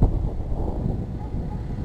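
Cold wind buffets the microphone in a low, steady rumble with gusty surges throughout, on a farm during silage harvest.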